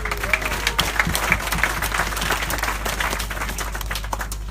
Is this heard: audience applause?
yes